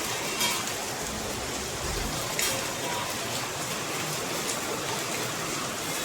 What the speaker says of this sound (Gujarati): વરસાદ ચાલુ થયો હો જબરજસ્ત